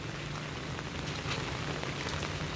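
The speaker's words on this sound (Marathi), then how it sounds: "पाऊस आज काही थांबायचं नाव नाही घेत आहे" Steady rain pours down on an evening that has been wet since morning, a dense, unbroken hiss of falling drops that stays loud and even throughout with no voices.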